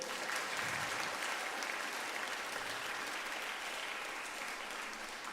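An audience at a junior piano competition concert claps steadily, a dense even applause from a large hall that keeps going throughout.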